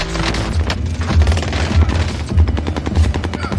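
Rapid bursts of automatic gunfire from an online shooter game, with repeated thumping shots close and loud, clattering in quick volleys over about four seconds.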